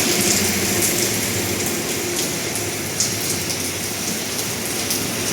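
Heavy night rain pours steadily in Rajasthan, a dense hiss of drops drumming on surfaces close by, continuous and loud with no talking.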